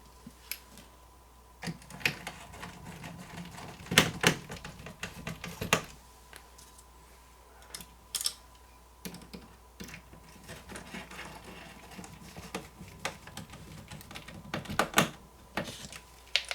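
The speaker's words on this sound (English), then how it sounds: "go ahead and put the two screws to hold the main board back in place" Screws are driven by hand into the main board of an Asus RT-AC5300 / GT-AC5300 router, producing scattered close clicks, ratcheting ticks and small metallic taps at an uneven pace with no talking.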